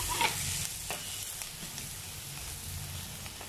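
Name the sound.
slit green chillies added to frying prawn curry base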